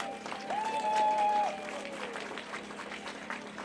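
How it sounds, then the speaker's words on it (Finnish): Crowd applause at an outdoor political demonstration, a fairly faint, steady spread of clapping with a short tonal whistle near the start. "Antakaa itsellenne aplodit."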